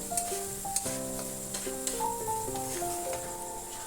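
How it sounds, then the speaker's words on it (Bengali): Mustard and chili paste fries in oil with a splash of water, a soft continuous sizzle with occasional stirring scrapes, under background music. "সামান্য একটু জল দিয়ে এটাকে কষিয়ে নেব"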